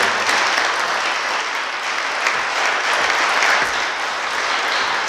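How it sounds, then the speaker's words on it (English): Audience at a Boys and Girls Club centennial celebration and demo day applauds steadily, a dense, loud wash of clapping sustained throughout without speech. "A round of applause for all of these individuals and companies that they impact."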